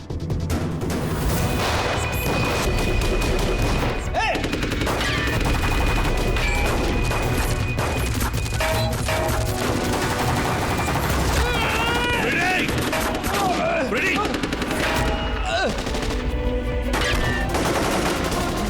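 Rapid bursts of gunfire fill a TV crime drama scene, loud and continuous, with booming impacts and shouting voices mixed among the shots.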